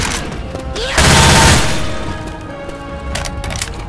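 Loud close gunfire in the game Left 4 Dead 2 as players shoot at the Tank, a dense burst of rapid shots peaking for about a second and then tailing off into scattered firing.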